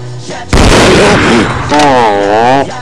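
A gunshot fired to shoot a bottle off someone's head: a loud, sharp blast that rings on briefly before voices talk over the tail.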